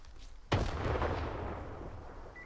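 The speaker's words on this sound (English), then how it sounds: "That's a grenade." A grenade explodes in the shooter game Stalker 2, a single sharp, loud blast followed by a long rumbling decay that fades over a couple of seconds, with no speech.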